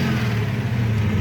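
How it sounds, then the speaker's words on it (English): A car engine fitted with a Holley carburetor idling, a loud, close, steady low drone with an even throb that holds without a rev. "you can see as we've been going, the engine's steadying out quite a bit"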